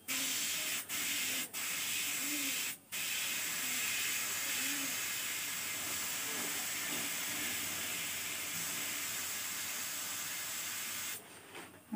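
Continuous close hiss of red spray paint being applied to glass, a steady loud spray with a few brief interruptions early on and a stop near the end, no talk.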